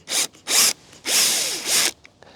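A power drill backs a screw out of a deck board in four short, loud bursts. Each whir shifts in pitch as the screw turns out, with brief pauses between bursts and no talking.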